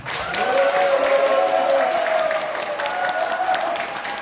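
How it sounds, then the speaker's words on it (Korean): Party members at a Gyeongnam provincial meeting give a loud round of applause for a visiting supreme council member, a dense continuous roar of clapping with some cheering voices, gradually easing toward the end. "우리 경남을 방문해 주신 김민석 최고위원께 다시 한번 박수 한번 주시죠"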